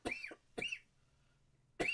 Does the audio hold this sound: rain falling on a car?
no